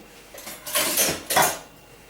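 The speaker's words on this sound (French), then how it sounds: "On va mélanger donc la meringue à l'italienne avec la crème fouettée." Italian meringue folded into whipped cream in a bowl for frozen nougat, heard as a few soft, close scraping and swishing strokes of a utensil against the bowl, swelling and fading in short bursts.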